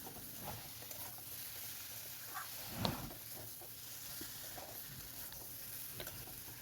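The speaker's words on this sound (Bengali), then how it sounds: "দিয়ে দেওয়ার পর আরও খানিকক্ষণ ধরে 2-4 মিনিট ধরে মশলাটাকে কষে" Spice paste and pointed gourd being stir-fried in a pan give a faint, soft sizzle, with quiet scraping stir strokes now and then and one slightly louder clatter.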